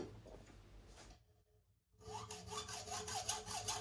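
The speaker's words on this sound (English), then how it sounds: "The gear chain shaft is made from very tough material, but the hacksaw cuts through it okay." Hacksaw cutting through a tough gear chain shaft clamped in a vise, Kawasaki motorcycle part: steady rasping strokes up close, pausing briefly mid-way before resuming with rhythmic back-and-forth sawing.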